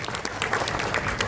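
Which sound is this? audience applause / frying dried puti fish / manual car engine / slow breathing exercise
audience applause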